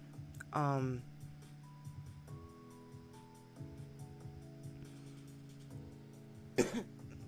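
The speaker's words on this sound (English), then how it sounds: "Trying not to cough." A single sharp cough bursts out near the start, followed later by another short cough-like burst, with a low steady hum and faint background sound between them.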